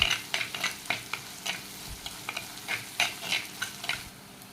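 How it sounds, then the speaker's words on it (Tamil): Small onions and chilies sauté in hot oil with mustard seeds for a dry fish poriyal, giving a steady sizzle broken by repeated sharp scrapes of a spatula against the pan, close and fairly loud with no talking. "கலர் சேஞ்ச் ஆகிற லெவலுக்கு நல்லா வதக்குங்க"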